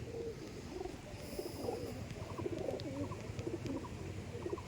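Tournament-quality Madrasi pigeons coo in soft, repeated low phrases close by over a faint background hum, with no voices heard.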